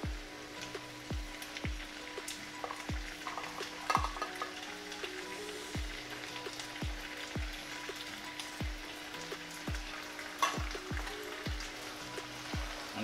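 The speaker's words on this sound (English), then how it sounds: "And continue to stir in." Ackee and saltfish frying in a pan while being stirred, a steady soft sizzle with regular spoon scrapes and taps about every second, fairly quiet and close.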